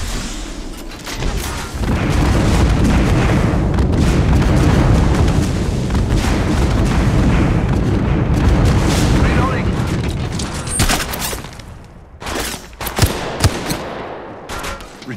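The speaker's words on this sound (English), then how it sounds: "Calling the airstrike." Heavy, continuous airstrike explosions from Apex Legends Mobile roar for most of the stretch, with dense rumbling booms that thin into scattered sharp blasts near the end.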